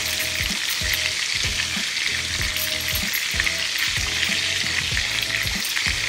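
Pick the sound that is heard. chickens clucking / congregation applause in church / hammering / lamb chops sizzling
lamb chops sizzling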